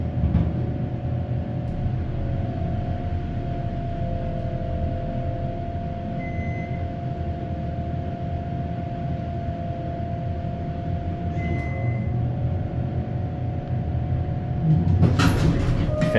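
The motor of an Otis Series 1 hydraulic elevator runs with a steady low hum and rumble, a continuous drone that stays even throughout, with a short clatter near the end.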